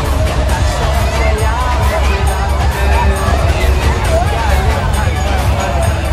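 A dense, loud crowd at a Ganpati Visarjan immersion beside a river in Haldwani, with voices blending into a constant hubbub and no pause from start to finish.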